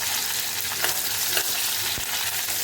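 Onion frying in oil in a pan, a loud continuous close sizzle with occasional soft stirring scrapes and a brief tap of the spoon near the end.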